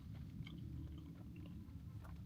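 Someone chews a soft pretzel with a slightly crunchy crust, producing faint, close, continuous mouth-chewing and biting noises over a low background hum.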